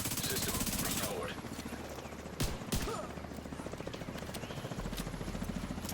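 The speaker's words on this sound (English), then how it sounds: "Then there's the helicopter who spawns the next wave." Helicopter in a video game, its rapid rotor chop beating steadily throughout, mixed with bursts of gunfire and mechanical clatter, under a player talking.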